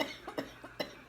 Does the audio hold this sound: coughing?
yes